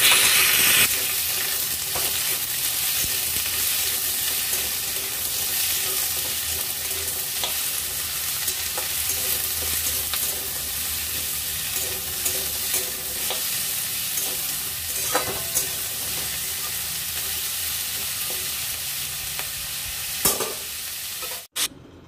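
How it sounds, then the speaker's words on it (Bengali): Sliced radish frying in a pan for a radish curry, with a steady bright sizzle through the whole stretch and occasional scrapes and stirs of a utensil, close by and with no talk. "মূলো দিয়ে একটু পাতলা করে ভেজে দেব"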